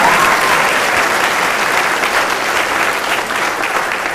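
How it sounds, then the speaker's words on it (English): Loud, steady applause from an audience at a 2010 small-town queen pageant, a dense wash of many hands clapping continuously throughout without a break. "Let's give them a round of applause."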